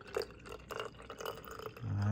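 Water with pink Himalayan salt pouring back into a bottle: faint trickling and dripping splashes in small irregular bursts, ending in a brief louder gurgle, with no talk.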